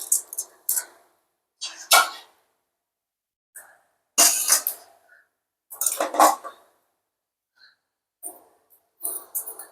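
Fried peanuts and roasted gram tipped into flattened rice for karida avalakki, close bursts of dry rattling and clatter against a dish separated by silent pauses, with no voices.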